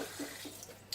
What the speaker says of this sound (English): I just gotta get the water over here